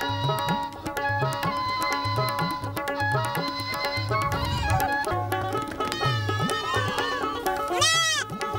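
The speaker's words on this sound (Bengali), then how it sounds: "একটি ছাগল ছানা কুলে তোলে নিতেই ম্যাঁ করে ডাকে।" A goat kid bleats over light background music in a farmyard scene, with a short wavering bleat standing out near the end.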